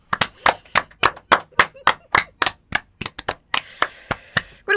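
Radio show hosts in a studio clap together in a quick, even, close-up run of about twenty sharp handclaps, lasting a few seconds with no talking.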